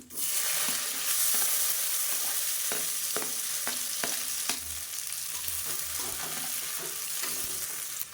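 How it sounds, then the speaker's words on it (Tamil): Long-sliced large onions added to hot oil with whole spices and mint for a vegetable kurma, sizzling loudly and steadily up close, with occasional sharp stirring scrapes and no talking. "இப்போ அதில் நீளமாக நறுக்குன பெரிய வெங்காயம் சேர்த்துக்கலாம்"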